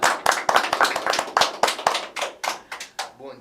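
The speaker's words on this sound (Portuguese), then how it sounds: "Palmas." Studio audience claps for a former Cruzeiro footballer, a burst of about a dozen sharp, uneven hand claps from a small group, fairly close and loud, thinning out toward the end.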